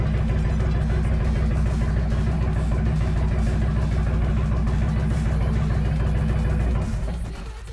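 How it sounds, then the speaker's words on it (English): Engines of several vehicles, including a 2018 Indian Chieftain motorcycle, idle steadily after a cold start, a loud continuous low rumble with dense rapid firing pulses that drops away near the end. "so that was a cold start of all three vehicles"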